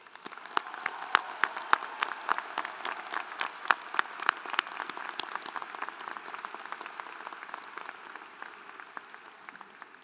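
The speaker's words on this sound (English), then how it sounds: "Please join me in showing them an appreciation with a round of applause." Sustained applause fills a graduation ceremony hall, many hands clapping at a moderate distance in a dense, even patter that slowly thins toward the end.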